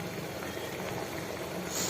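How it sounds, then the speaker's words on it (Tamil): A pot of vegetable soup made with cauliflower cooking water boils steadily, a dense bubbling hiss with soft pops, close and fairly quiet, alone without talk. "இப்போ இது நல்லா பாயில் ஆகட்டும், நல்லா வேகட்டும்."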